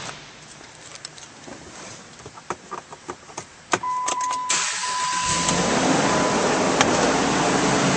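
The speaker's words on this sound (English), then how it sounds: "And now we'll start up this vehicle." A 2009 Jeep Grand Cherokee starts up: a series of clicks and clunks from the cabin, a brief starter crank, then the engine catches and settles into a steady idle hum with a faint whine, heard close and alone.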